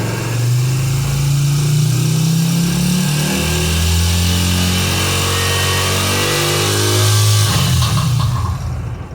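A motorcycle with a battery-charging fault revs up loudly and close during a charging-system voltage test, rising in pitch and holding a strained roar before dropping back near the end.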